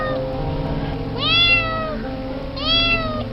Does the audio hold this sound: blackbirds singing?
no